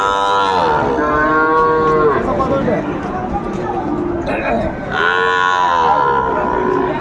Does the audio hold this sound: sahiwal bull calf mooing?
yes